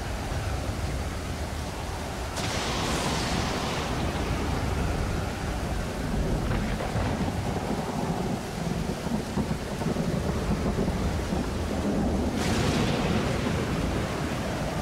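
Storm in Stranded Deep, with heavy steady rain and wind hiss and rolling thunder swells building and fading throughout, no voices.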